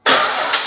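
A Dodge 265 Hemi engine cranks briefly as it runs out of fuel, a short, loud burst of churning mechanical noise lasting under a second.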